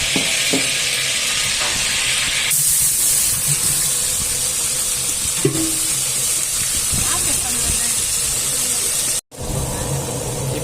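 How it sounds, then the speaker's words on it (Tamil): Onions dropped into hot oil with spices for a large temple rice dish sizzle and hiss steadily, a loud close frying texture with occasional stirring clatter throughout, no talk heard. "இப்போ நாம் அதில் வெங்காயத்தை போட்டுடலாம்"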